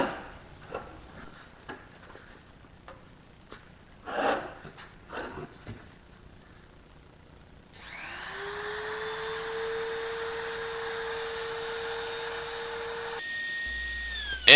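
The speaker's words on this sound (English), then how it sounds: "I'm back to using the cutoff wheel on this particular cut" A cutoff wheel spins up and cuts a small part for a Challenger 2 ultralight aircraft build, a loud sustained whine with a shifting pitch, preceded by scattered ticks and handling clicks.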